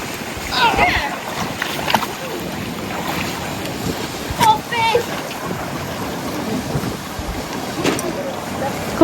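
Atlantic sea waves wash and splash against the rocky coast of Madeira island, a rough rushing water sound with gusts of wind, while people talk close by.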